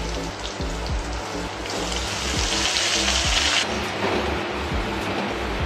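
Greens for a Bengali kumro saag chorchori drop into hot oil in a pan and crackle in a steady, close sizzle that flares briefly louder midway, with no talking.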